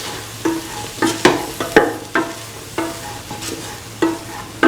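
A spoon stirs cauliflower and bottle gourd frying with garam masala in a pan, with repeated scraping strokes at an uneven rhythm over a steady close sizzle.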